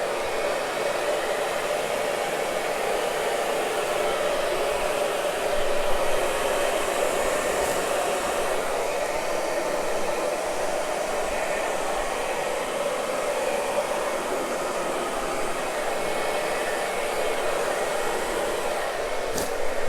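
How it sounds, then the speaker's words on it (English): A fairly expensive hair dryer runs continuously at a steady, loud whoosh, blowing on acrylic paint during paint pouring, alone without talk. "This was a fairly expensive hair dryer."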